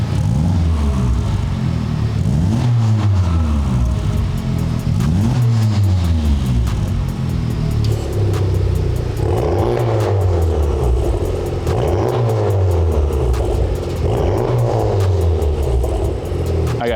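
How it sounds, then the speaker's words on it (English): A 2023+ Honda Civic Type R (FL5) engine revs repeatedly, each throttle blip rising sharply then falling back, several loud bursts in a steady rhythm close by. "So I'm gonna give you some revs real quick, just to show you guys the difference."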